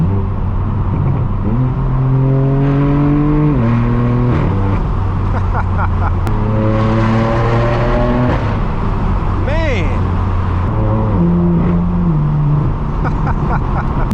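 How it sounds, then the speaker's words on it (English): Straight-piped BMW M4 F82 with an inline-six engine driving on a highway, its loud, raspy exhaust climbing through several gear pulls with shifts between, droning continuously close up and alone. "I must say, the sound of this inline 6 does not get old. Man, it just sounds so deep and raspy."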